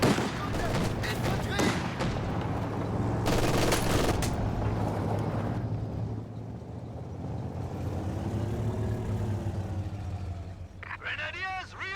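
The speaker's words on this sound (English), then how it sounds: "Taking infantry fire." Rapid bursts of rifle and machine-gun fire in a Company of Heroes battle, with heavy volleys and crackling shots, a lull of rumbling vehicles midway, then more sharp gunfire near the end, amid in-game radio voice.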